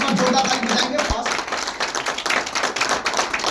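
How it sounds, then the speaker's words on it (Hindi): An audience at a bio-magnetic health product seminar claps together, a busy, continuous patter of many hands with a voice talking over it. "जोरदार ताली बजाएंगे।"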